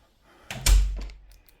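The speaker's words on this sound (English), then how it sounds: "I'm just going to shut the door behind me" A door in a Spanish house is pushed shut with a single heavy thunk, a low dull impact followed by a brief rattle, close and moderately loud in a quiet room.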